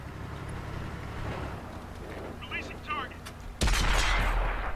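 Tank gun fire in World of Tanks on console (Xbox / PS4), a sudden loud blast near the end over a rumbling engine and battle ambience, with faint radio-like chatter earlier.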